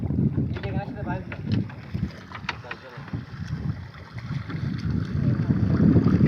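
A small boat moves across open water under strong wind buffeting the microphone, with splashing and creaking over the noise and a voice talking over it.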